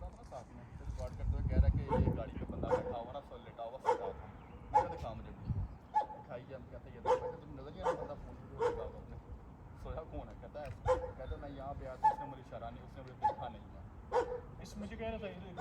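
A security guard's dog barks repeatedly in a tense street confrontation, irregular yaps and barks spread throughout under near-constant talking voices.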